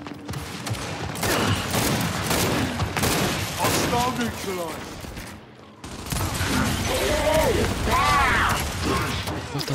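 Gunfire in a first-person shooter team deathmatch on the Canals map, with a bolt-action rifle, sharp shots and mechanical clatter running steadily under speech throughout, dipping briefly mid-clip.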